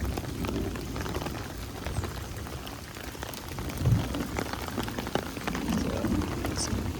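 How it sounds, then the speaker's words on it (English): Heavy storm rain pours down at a primitive campsite, a dense steady patter on surfaces with occasional heavier splashes, continuous and fairly close, no talking. "Ooh, this storm is storming."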